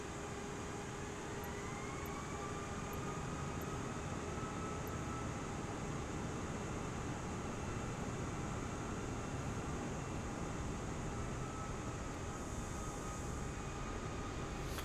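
ANA airliner taxiing at Tokyo Narita in Microsoft Flight Simulator, heard from outside: a steady, continuous jet engine roar and whine with faint rising tones, unbroken throughout, with no talking.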